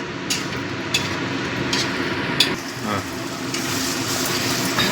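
Paneer fries with spice paste in a pan, a steady, close sizzle with a few sharp spoon scrapes and clacks as it is stirred.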